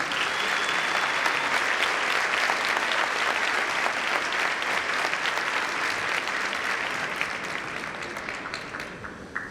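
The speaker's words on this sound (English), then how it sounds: "I invite you to applaud these wonderful people, your parents and your teachers" An audience at a graduation commencement ceremony applauds parents and teachers, a loud, dense, sustained clapping from a large crowd that holds steady and only slowly tapers toward the end.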